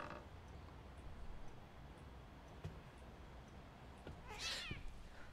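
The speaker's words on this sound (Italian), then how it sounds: "Oddio, il micio." A single short cat meow sounds near the end of a stretch of low, steady ambient hum in the horror video game The Medium, set at the Niwa resort; it is faint overall.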